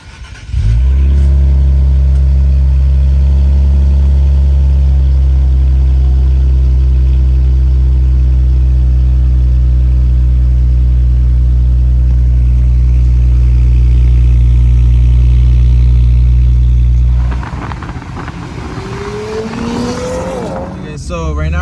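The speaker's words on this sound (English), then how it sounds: "It's 5 in the morning and we're gonna get that cold start." An Infiniti Q fitted with a catback exhaust and intakes cold-starts at 5 a.m., settling into a loud, steady, deep high idle drone that runs close-up for most of the time before giving way to rustling handling noise near the end.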